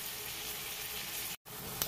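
Four large onions frying in a pan for crab curry, a soft steady sizzle with a brief break near the end.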